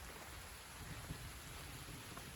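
Steady rain falls during an evening thunderstorm, a continuous hiss with faint low rumbles beneath, heard alone at moderate level.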